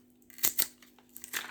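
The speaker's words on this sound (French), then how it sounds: "On est obligé de couper ici." Cutters snip copper wire from a small ferrite transformer, two quick close crisp cuts followed by faint crackling handling, with no talking.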